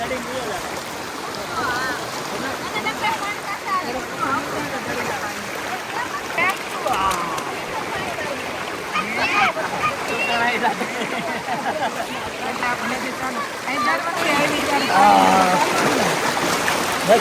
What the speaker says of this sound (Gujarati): પાણીનો તાણ છે હો બહુ